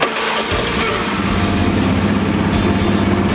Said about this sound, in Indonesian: melakukan percobaan menghidupkan mesin sepeda motor